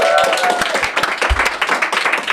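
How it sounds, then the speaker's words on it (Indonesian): A small audience claps in a short burst of scattered hand claps, with a voice heard faintly underneath. "Tepuk tangan dong buat Gofar Hilman."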